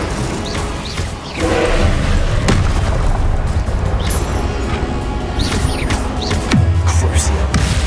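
Fiery spell blasts from Hogwarts Legacy on PS5 burst as loud booming whooshes amid a dense rumble of combat effects, with a few sharp impacts and chirping magical flourishes.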